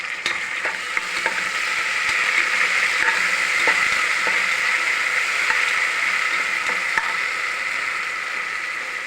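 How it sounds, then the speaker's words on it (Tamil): Onions and curry leaves frying in hot oil in a pan, a steady loud sizzle with occasional scrapes and taps of stirring throughout, and no voices. "வெங்காயம் வதங்கிடுச்சு"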